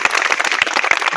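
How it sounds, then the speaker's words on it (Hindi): Loud applause from an event crowd gathered at the Chanar Devi Mai (Ramna Devi) temple site in Sirha, cheering a visiting guest, with dense steady clapping filling the scene and no voices above it. "इसके लिए एक बार सर के लिए जोरदार ताली"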